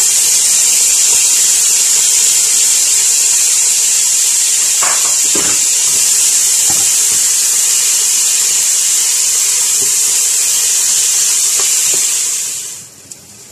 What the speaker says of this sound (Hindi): इस गर्म ऑयल के अंदर ये प्याज डाल देंगे।